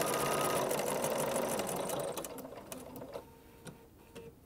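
A sewing machine stitches fabric in a fast, steady mechanical whir. It slows and stops partway through, leaving a few faint clicks and taps.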